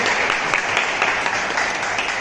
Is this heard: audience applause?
yes